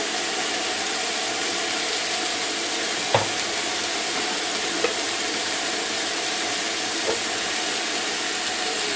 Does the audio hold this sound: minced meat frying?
yes